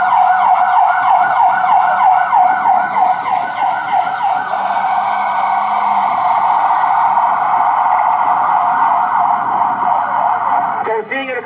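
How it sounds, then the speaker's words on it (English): An ambulance siren wails loudly and steadily outside the Lebanon County, Pennsylvania courthouse, its rising and falling sweeps filling about eleven seconds before cutting off abruptly at the end. "I'm going to pause here while the ambulance goes by."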